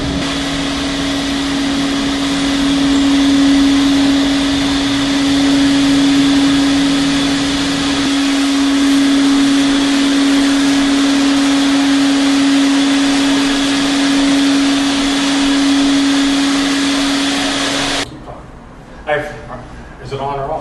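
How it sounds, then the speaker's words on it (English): A wet/dry shop vac drones steadily and loudly as it sucks neutralized chemical solution and rinse water off a floor being prepared for anti-slip coating, then cuts off abruptly, after which voices speak briefly. "use a shop vac or wet vac to clean up the water and get most of the moisture off of the floor"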